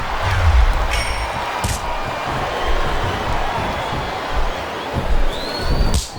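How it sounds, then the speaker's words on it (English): A capacity arena crowd roars steadily in the WWE SVR 2007 wrestling video game, a dense wash of cheering that rises and falls in short swells. "This capacity crowd is making their opinions known tonight."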